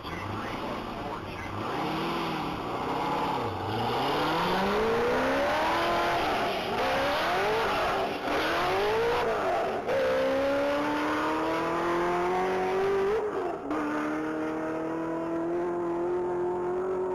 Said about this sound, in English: That's going to be a blue 2008 Z06 Coupe.